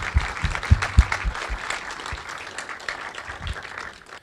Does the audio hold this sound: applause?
yes